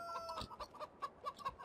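A rooster in Farming Simulator 2015 gives a quick series of short clucks, about seven or eight sharp bursts in an uneven rhythm, clear and close with nothing else around.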